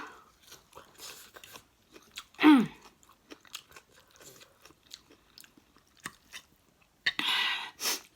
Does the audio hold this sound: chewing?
yes